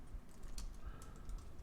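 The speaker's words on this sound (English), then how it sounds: "I just pressed the wrong button on my keyboard and locked it out." Soft, faint computer keyboard key clicks tap irregularly over a low background rumble.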